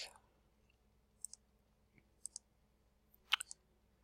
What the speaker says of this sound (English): I'm just going to click